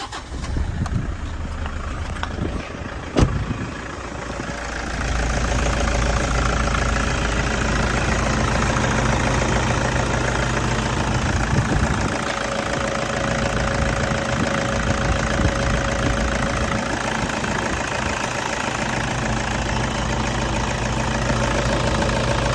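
A 2005 Toyota Vigo pickup with a 2500 engine idles steadily at close range, a continuous low rumble with faint knocking, briefly interrupted by a sharp clack early on before settling into an even drone.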